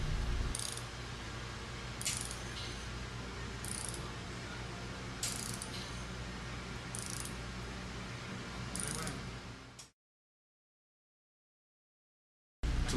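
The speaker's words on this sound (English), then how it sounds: "turn the adjusting screw clockwise to the desired pressure level as indicated on the downstream gauge" Adjusting screw being turned on a Watts pressure reducing valve, a steady mechanical grinding with sharp ratcheting clicks at roughly even intervals, close up, stopping abruptly into silence before a brief return.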